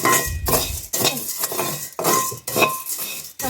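A spoon scrapes and stirs leftover rice frying golden over low heat in a pan, in repeated rhythmic strokes roughly every half second, close and clear with a soft sizzle underneath.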